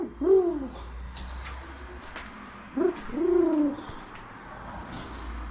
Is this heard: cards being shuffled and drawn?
no